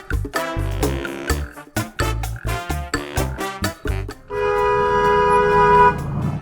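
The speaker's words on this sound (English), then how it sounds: "And this time she gets a longer honk." A driver leans on a car horn in one long sustained honk at a traffic light, loud and steady for about two seconds after a run of choppy road and engine noise.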